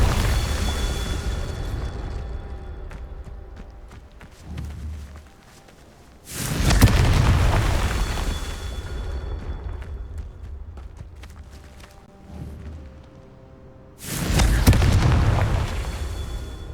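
Incendio and Confringo spells explode in Hogwarts Legacy on Xbox Series X: two loud, deep blasts about eight seconds apart, each with a rumbling, fading tail, with quieter game ambience and shorter thuds between them.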